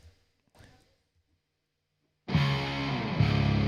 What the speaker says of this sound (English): see what happens if I use the twin tracker on the on this distortion channel